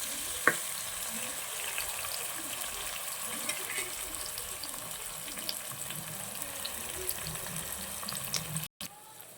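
Ingredients for a pearl spot fish coconut milk curry sautéing in a pan, a low continuous sizzle with faint stirring, one sharp knock near the start and a brief break near the end, no voices.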